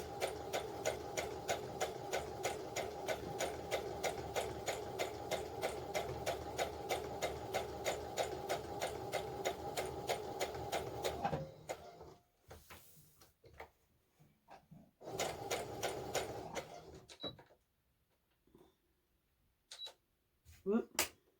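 A sewing machine stitches linens with a rapid, steady mechanical chatter for about eleven seconds, then runs in shorter bursts separated by pauses, close and clear with no talking.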